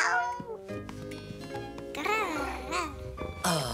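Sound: children imitating cat meows

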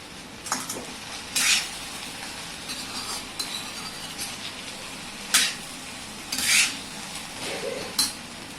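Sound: sautéing okra in an iron kadhai

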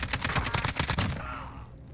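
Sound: gunfire in Warzone video game

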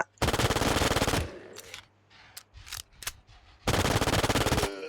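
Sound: gunfire from B93R pistol in video game Infestation

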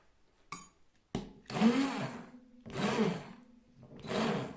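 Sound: blender mixing frozen strawberry ice cream

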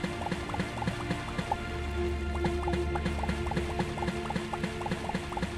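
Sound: water being removed in the video game Starbound

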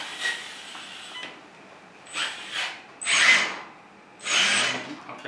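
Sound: JDMODEL 1/14 RC excavator motor spinning

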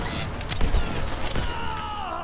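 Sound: gunfire in video game Borderlands 3

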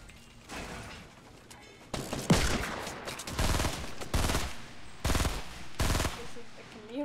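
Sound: gunfire while shooting in a video game

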